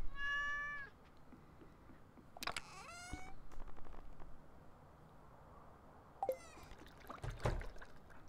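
A cat meows several times, a clear harmonic call at the start followed by more calls midway and near the end, close by in a quiet indoor room with faint handling noises between.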